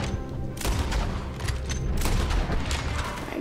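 Rapid gunshots in a Red Dead Redemption 2 shootout, loud broadband cracks clustered in bursts with a couple of sharp heavier reports, steady battle din underneath and no talking.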